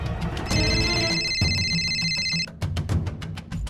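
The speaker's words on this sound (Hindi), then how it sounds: "उधर किसी का फोन बज रहा है" A mobile phone rings somewhere nearby in a village comedy scene, its bright electronic tone repeating for about two seconds before stopping, followed by sharp knocks and rustling.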